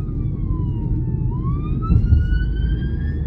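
A police car siren wails loudly and close by, one long tone dipping then rising, over a low vehicle rumble.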